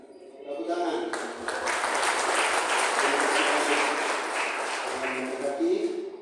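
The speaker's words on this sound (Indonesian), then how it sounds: "Tepuk tangan." A congregation at a church wedding service breaks into warm, sustained applause that rises quickly and carries on for several seconds in a reverberant hall.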